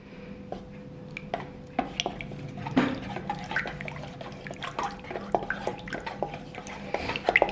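Wet, sticky squelches and soft taps as bread dough is mixed by hand in a bowl, an irregular close-up series of small sounds in a quiet kitchen.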